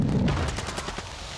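Rapid gunfire in Call of Duty Modern Warfare II, a quick string of sharp shots in an automatic burst, close and loud, trailing off over about a second.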